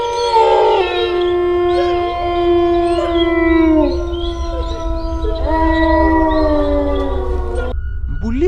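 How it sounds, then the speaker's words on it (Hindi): A wolf howls in a forest, long mournful wavering tones that rise and fall in two drawn-out calls against a steady low rumble, loud and close, with no speech over it. "देखो जंगल में भेड़िया के चीखने की आवाज आ रही है"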